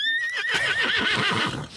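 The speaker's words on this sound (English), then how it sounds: "Oh, so you're buying a horse." A horse neighs as a sound effect: a loud, close whinny with a wavering, trembling pitch runs through the whole moment, backed by a rough breathy rumble.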